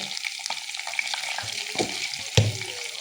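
Salted cabbage fries in a pan with a constant close sizzle, broken by scattered scrapes and knocks of a stirring utensil, with no one speaking.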